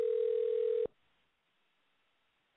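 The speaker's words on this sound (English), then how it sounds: "as that phone rings" A telephone tone on a radio show call, one steady beep lasting under a second, then near silence before a second tone begins at the end.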